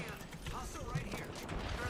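Gunfire from an Apex Legends match, a busy spread of shots and mechanical clatter mixed with in-game voice callouts, moderately loud and steady across the moment.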